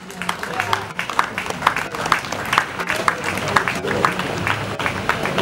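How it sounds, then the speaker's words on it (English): A crowd applauds a traditional chief at the reopening of the Manhyia Palace Museum, with uneven clapping running throughout and a voice speaking over it. "A round of applause."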